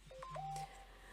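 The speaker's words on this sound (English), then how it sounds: "So sorry about that noise. That is my phone," A mobile phone gives off a short run of electronic tones: a few quick beeps followed by a longer sustained note. The tones are clear but quiet against a still background.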